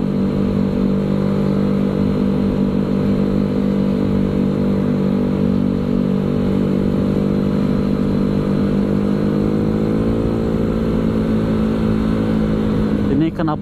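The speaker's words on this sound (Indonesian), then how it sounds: "Knalpotnya pada bobokan ini satu bengkel ya dari KRR" Several Yamaha Mio motorcycles fitted with modified, gutted aftermarket exhausts ride together, their engines droning steadily and loudly at close range throughout, with voices talking over the engine noise.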